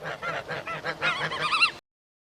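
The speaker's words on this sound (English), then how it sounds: "Geese are big, honking birds that love to eat grains like wheat and oats." Geese honk in a quick series of nasal calls, several birds overlapping, at moderate distance, before cutting off abruptly.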